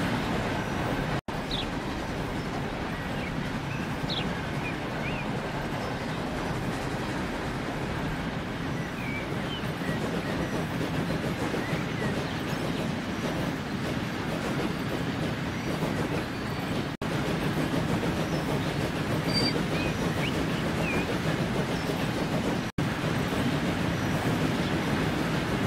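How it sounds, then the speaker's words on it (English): A train in the Transport Fever 2 railway game on an American railroad, crossing a diamond junction: a steady, continuous rumble and clatter of wheels on rails that carries on evenly for the whole stretch, with no voices. "Yay, look at this train. It's going to go across the diamond."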